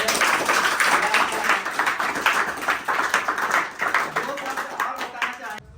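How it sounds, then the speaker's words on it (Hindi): Loud, dense clapping from an audience at a Teacher's Day celebration in an institute hall, running steadily for several seconds with shouts or voices mixed in before it cuts off. "तो एक बार जोरदार तालियां"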